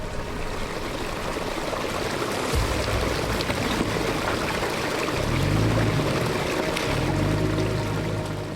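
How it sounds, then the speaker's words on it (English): A creek flows through a canyon with a steady, close rushing and babbling of water, continuous throughout with low gurgling swells and no voices. "The sound of the creek flowing, the breeze in the trees"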